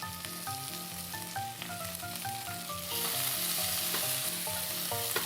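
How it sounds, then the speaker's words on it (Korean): Bulgogi stir-frying in a pan with butter, garlic powder, salt, pepper and sugar, a steady close sizzle under background music. "볶아주세요"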